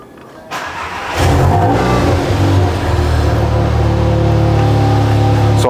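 A VW Golf Mk7 engine cranks and catches, then settles into a steady, loud idle that holds close by.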